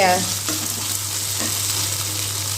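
Okra roasting in a pan, a steady dense sizzle throughout with a couple of faint stirring scrapes, close and fairly loud, no speech.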